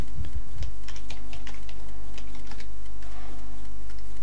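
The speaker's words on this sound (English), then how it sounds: "Type in your text" Fast, steady tapping on a computer keyboard comes as close, crisp key clicks in a continuous run over a faint hum, with no one speaking.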